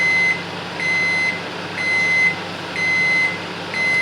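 A Silvercrest SMW 800 F2 microwave oven runs with a steady hum while emitting a series of regular high-pitched beeps, about one every second, loud and close with no talk.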